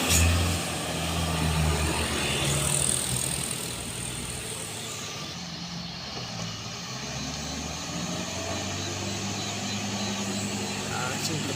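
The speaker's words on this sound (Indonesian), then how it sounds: "Ini truk Isuzu" An Isuzu truck loaded with bricks labors up a steep slope, its engine droning steadily and loudly throughout with a rough, continuous roar that eases slightly midway.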